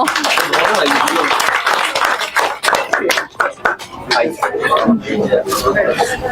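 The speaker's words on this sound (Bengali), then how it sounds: "হাততালি সিয়ামের জন্য।" A studio audience at a Rajshahi cooking competition audition claps for contestant Siam, a loose patter of hands mixed under a host's loud talking.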